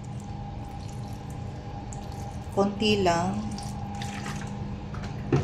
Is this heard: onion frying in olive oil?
no